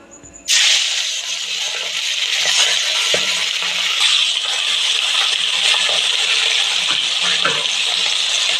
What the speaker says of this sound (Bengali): কড়াইতে আমি সর্ষের তেল দিয়ে নিয়েছি আর মাছগুলোকে আমি ভেজে নেব